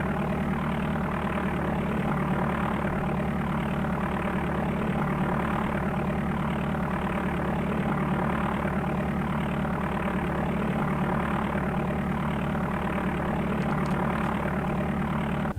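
A propeller aircraft engine idles as the plane taxis at Quad City International Airport in the DOS game Flight Simulator 4, giving a steady, unbroken drone that holds at an even level throughout.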